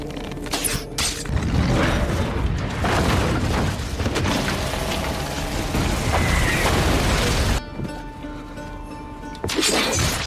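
A prepared bomb goes off as a signal in a Rurouni Kenshin film scene, a loud sustained explosive roar with rumbling debris that cuts out abruptly, then a burst of noise returns at the end.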